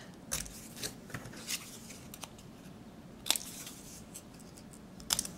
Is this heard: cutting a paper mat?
yes